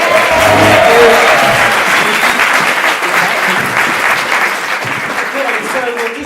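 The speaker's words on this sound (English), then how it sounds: "Can we also give a round of applause for Marcus," An audience at the Animas Summit 2015 claps for Marcus, loud, steady applause that tapers slightly over about six seconds, with a voice briefly speaking over it early on.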